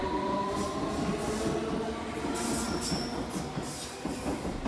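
London Underground train at Ravenscourt Park station, a loud continuous rumble of wheels on rails with faint squeals and clatter, close by and steady throughout.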